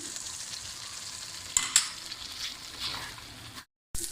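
Ground spices roast in hot oil for Lahori chanay, a close, even sizzle with a few sharp stirring scrapes before the sound briefly cuts out.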